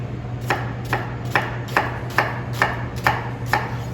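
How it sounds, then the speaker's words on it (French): Knife chopping through an onion on a board, eight evenly spaced crisp cuts about half a second apart, close and clear over a low steady hum, with no talking. "pour notre oignon, je vais me faire un petit émincé une fois de ce côté-là"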